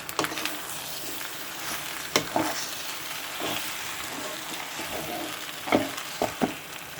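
Macaroni with egg fries in a pan with a soft, steady sizzle, broken by a few sharp scrapes and clacks of stirring, fairly quiet and without talk.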